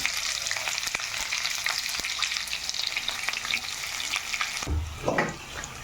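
Onions and garam masala fry in a hot pan, giving a steady loud sizzle close by, with a stir and a clunk near the end.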